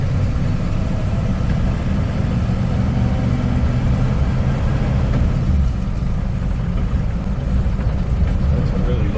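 A 1955 Pontiac Chieftain engine lugs along in low gear, a steady loud low rumble that holds evenly throughout with no pauses.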